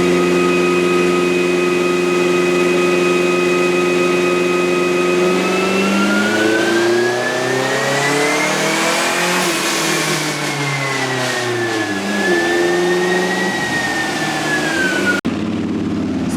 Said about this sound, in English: We're actually getting blow-off valve noises